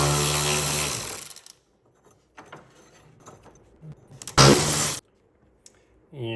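Removing two 13 mm nuts from the bumper side plate of a Ferrari F430 with an extension, heard as bursts of close mechanical whirring and ratcheting with brief gaps and faint handling noise, alongside speech.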